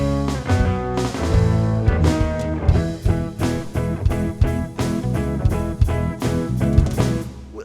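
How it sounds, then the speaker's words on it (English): The intro chord progression of a song plays as a full, loud band mix with a steady rhythmic pulse and no talking. "It starts off with this little intro chord progression"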